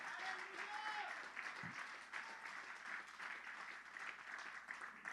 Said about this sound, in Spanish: Vamos, fuerte el aplauso al Señor